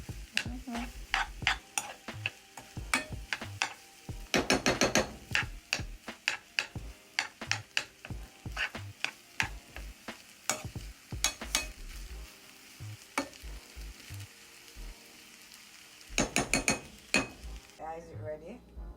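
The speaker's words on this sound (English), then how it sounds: "so I'm stirring it all in" Vegetables being stirred in a cooking pan, a spoon clinking and scraping in frequent sharp bursts over a soft sizzle, with quiet gaps between strokes.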